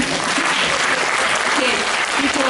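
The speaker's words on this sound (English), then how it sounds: "people are clapping to themselves" Audience clapping at a fantasy literature panel at a convention, a continuous, full round of applause throughout with no break.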